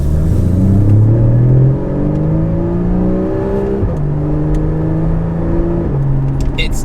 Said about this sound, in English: So I'm in regular drive right now with the valves closed, and actually it's just a little bit louder than stock. So accelerating